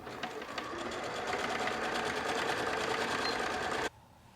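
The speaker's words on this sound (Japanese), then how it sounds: "タックを縫う。" A sewing machine stitches tucks in a continuous fast whirring run with a steady needle rhythm, close and loud, stopping abruptly near the end.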